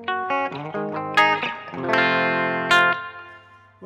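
Electric guitar played through a Blackstar HT Studio 20 amp with heavy reverb: a short run of picked notes and struck chords, each ringing out with a long, washy tail, no talk.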